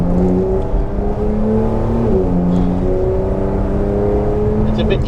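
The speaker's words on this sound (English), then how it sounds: "It's a bit inert in the sense of the engine noises." A Porsche 911 Targa 4S engine drones steadily while climbing a mountain road, a subdued in-cabin hum with gradual pitch shifts as the revs change, and a voice talks over it now and then.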